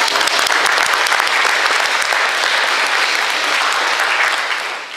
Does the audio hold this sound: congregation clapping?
yes